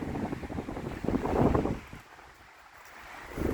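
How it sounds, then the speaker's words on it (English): Strong wind buffets the microphone on the summit of Black Mountain, a 10,760-foot peak in Colorado, roaring loudly for a moment before easing to a softer rush that then builds again, with no voices. "I wish it wasn't so damn windy"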